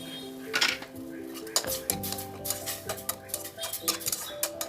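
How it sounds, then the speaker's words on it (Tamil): Ground meat with fresh green peas and tomato being sautéed in a pan, a spoon clinking and scraping against the metal repeatedly, close up over a steady background tone, no talking. "பச்சை வடை போகிறது வரைக்கும் அதை கொஞ்சம் வதக்குறோம்."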